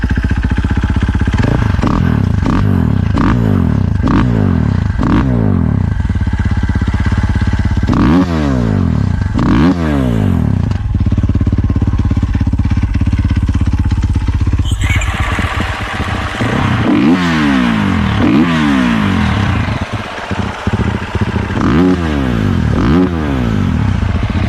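Motocross bike, a 450 or 350, running loud and close, with repeated sharp revs rising and falling over a rough idle and a harsher, busier stretch in the second half.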